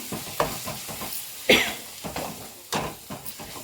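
A spoon stirring dry masala frying in a pan for Nellore-style Andhra silver fish curry: close scraping strokes come in a steady rhythm over a soft, constant sizzle.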